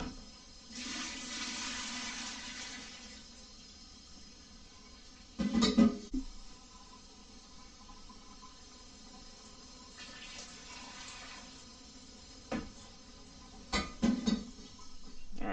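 Water pours and splashes into a pot for coffee dye in bursts, with quieter stretches and a few clunks between pours, close by.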